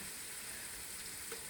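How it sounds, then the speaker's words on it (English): Meat and vegetables with red pepper paste frying in a pan for a Malaysian/Singaporean laksa curry give a steady, fairly faint sizzle with a continuous crackling hiss, no voices over it. "Sizzling away."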